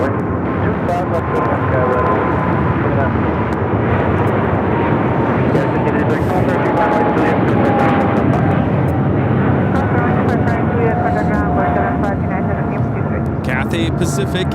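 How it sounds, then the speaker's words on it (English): Cathay Pacific Boeing 777-300ER jet departing LAX on takeoff for Hong Kong, a loud sustained engine roar that fills the whole clip, with a radio voice talking over it. "Cathay Pacific A85 taking off to Hong Kong on the 777-300ER"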